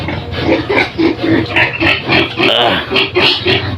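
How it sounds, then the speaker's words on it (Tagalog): A sow grunts and oinks in a steady run of short, loud, close calls, one after another, with little pause between them. "Baboy na."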